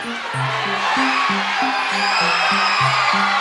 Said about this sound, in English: Oh, now the crowd goes crazy.